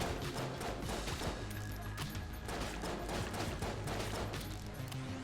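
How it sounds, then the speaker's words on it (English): The dueling laser weapon fires repeatedly in Enter the Gungeon, a dense, rhythmic stream of zapping shots over constant game music and combat noise, moderately loud with no talking. "I think the dueling laser is one of the worst use case style weapons in the game"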